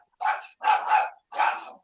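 A dog barks three times nearby, with short breaks between the barks. They are loud and sustained and heard on their own, with no talk over them.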